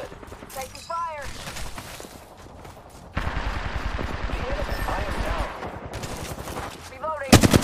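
Bursts of automatic gunfire from the Apex Legends video game, including a Rampage weapon, crackle in rapid volleys, with a long sustained stretch in the middle, while players talk over the shooting.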